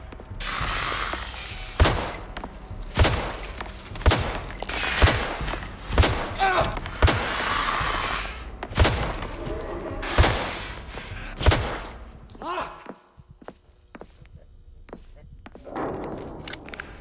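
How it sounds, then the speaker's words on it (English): Gunshots in a video game crack out repeatedly at roughly one-second intervals, loud and punchy with mechanical clicks between them, before the firing stops and the scene falls quieter. "Shotgun."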